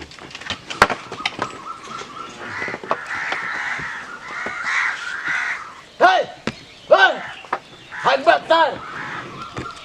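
A crow caws repeatedly at close range, its harsh calls bunching in bursts near the end, while people talk around it in a village yard where a buffalo is kept.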